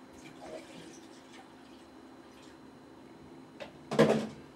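Water pours into a cooking pot for rice in a quiet kitchen, a short, fairly loud splash arriving near the end after faint background noise.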